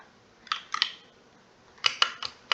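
Keys clatter on a faulty computer keyboard in two short bursts of crisp, close clicks, a few quick strokes each, separated by about a second of near silence.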